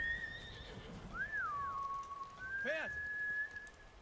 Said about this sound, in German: Pferde! Pferdi! Da bist du.